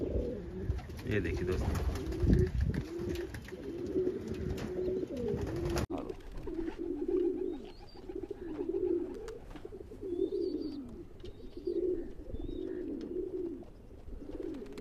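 Pigeons in a breeding loft coo repeatedly in low rolling pulses, close and steady. Someone talks briefly at the start over louder mixed noise before the cooing carries on mostly alone.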